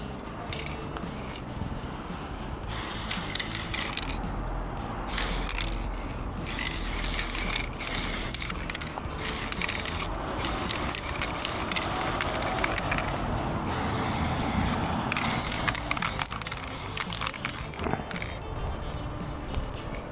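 Spray painting a Fender Stratocaster electric guitar body: a steady, loud hissing spray that runs throughout with brief gaps and some faint mechanical clicking, no talking.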